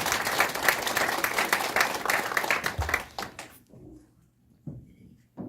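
An audience claps warmly to welcome a speaker at an entrance ceremony for a regional women's leadership training course. Dense, loud clapping lasts about three seconds, then breaks off into a quiet room with a few scattered claps and small sounds.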